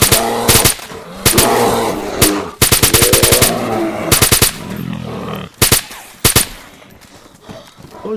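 Automatic gunfire in the survival video game DayZ: several loud rapid bursts of shots with short pauses between them, close and sharp, with no talking.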